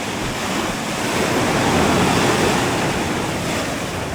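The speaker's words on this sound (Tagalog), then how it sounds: "Lakas ng hangin." Strong wind roars steadily across an open white sand beach at Patar, Bolinao, Pangasinan, mixed with the rush of surf, a dense, loud, unbroken blast buffeting the microphone from start to finish.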